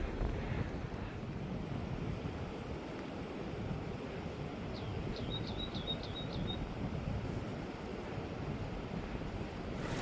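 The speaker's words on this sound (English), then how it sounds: "Can hear the creek under the rock." A mountain creek runs beneath rocks high on a summit approach, giving a steady, broadband rushing wash that holds for the whole stretch, with a brief chirp of birds in the middle.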